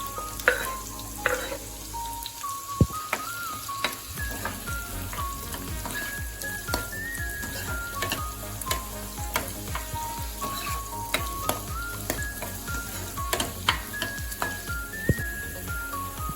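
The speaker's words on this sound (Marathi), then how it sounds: "तर मी याच्यामध्ये चॉप केलेलं गार्लिक ऍड करतेय. गार्लिक छानपैकी रोस्ट करूया." Chopped garlic and onion roast in a hot pan with a constant close sizzle, broken by frequent scraping stirs and light clicks of a spatula against the pan.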